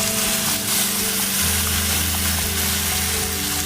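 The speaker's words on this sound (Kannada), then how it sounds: "ಇವಾಗ ಹುಣಸೆಹಣ್ಣು ರಸ ಹಾಕೋತಾ ಇದ್ದೀನಿ" Tamarind juice being poured into onions frying in oil for sambar, giving a steady, loud sizzle and bubbling throughout with a low hum underneath.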